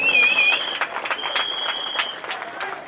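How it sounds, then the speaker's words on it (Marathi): Crowd applause at the Uk Tigers vs Vikhrolians cricket match, a sustained patter of many hands clapping at moderate distance under a commentator's voice and a steady whistle-like tone. "टाळ्यांचा स्वागत करूया"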